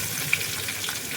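Mustard seeds and crushed onion fry in a hot pan for a tomato egg curry, giving a steady, close sizzle with a single faint pop, no voices over it.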